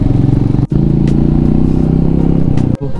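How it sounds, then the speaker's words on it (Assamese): Motorcycle labouring uphill on a steep mountain road near Sela Pass on the way to Tawang, a loud, close, steady engine drone with a brief dip and rattling clatter. "আৰু মোৰ বাইকখনে টানিবই পৰা নাই"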